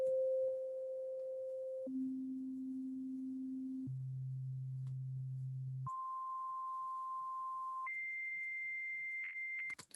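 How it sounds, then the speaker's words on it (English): A synthesized pure sine-wave tone holds steady, then jumps abruptly through five distinct pitches, low to high, each lasting about two seconds, clean and alone. "So this is a sine wave."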